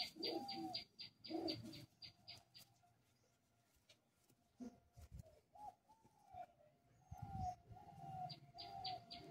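Pet pigeons coo softly nearby in low repeated phrases, mixed with some chirps, occasional rustling and scattered rapid clicking, all fairly faint.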